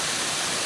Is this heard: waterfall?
yes